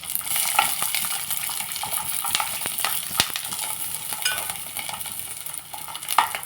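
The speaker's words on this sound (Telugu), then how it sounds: "ఒక ఎల్లుల్లిపాయ వేపేసుకున్నాను" Peeled garlic fries in a pan for chutney with a steady, crackling sizzle. Small clinks of a stirring utensil break through it now and then.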